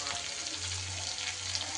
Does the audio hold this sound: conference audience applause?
no